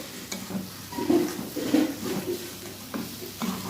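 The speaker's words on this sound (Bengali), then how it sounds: "এই চর্বি দিয়ে কিছুক্ষণ কষানোর পরে আলু আর সয়াবিনটাও দিয়ে দিলাম। এবার এটা দিয়ে ভালো করে কষাবো।" Potatoes and soybean chunks frying in fat while being stirred, a low crackling sizzle with soft scrapes and clunks of a spoon against the pot, close and fairly quiet, with no talk.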